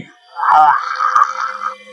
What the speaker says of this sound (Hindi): भूत मालिक को नहीं छोड़ता, उसे वो तड़पाता रहता है और मालिक चीखता रहता है।